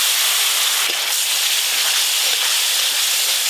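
Steady, loud, dense hiss of mustard and green chilli paste, thinned with water, sizzling in hot oil while fish curry cooks, continuous and close with no pauses.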